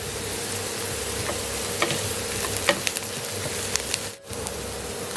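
Onions sizzle steadily as they are stir-fried in a pan for vegetable biryani, with a loud continuous frying hiss and occasional sharp clicks of a spatula, and a brief dip near the end.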